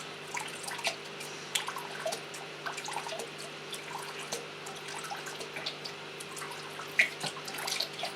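Saltwater being poured back into a nano reef aquarium, a faint steady trickle and splash with scattered drips over a constant low hum.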